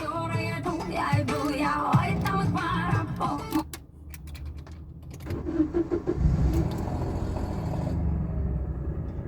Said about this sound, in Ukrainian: Тож давайте заводити машину.